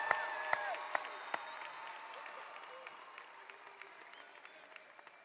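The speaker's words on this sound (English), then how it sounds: "One more round of applause, guys." Crowd applause at a high school graduation ceremony, a broad steady clapping from many hands that slowly fades, with a few whoops and sharp claps standing out and a voice speaking over it.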